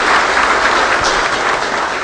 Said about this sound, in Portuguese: Vamos dar uma salva de palmas ao povo do Pará aqui, pessoal.